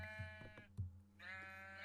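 Sheep bleating in Minecraft, a few wavering harmonic bleats close by, one cut off and then another starting near the end, with no talk over them.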